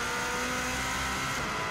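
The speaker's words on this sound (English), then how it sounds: "As you can hear from this car, it does sound amazing, and it's also revving quite a lot higher than the previous car." Subaru WRX STI turbo rally car running flat out on the Isle of Man TT course, its engine holding a steady, loud high-revving drone with a faint dip near the end and no voices.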